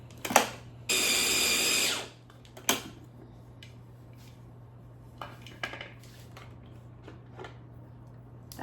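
A food processor blending spinach, arugula and Parmesan pesto in one short loud whirring burst of about a second, surrounded by quiet clinks and small kitchen knocks.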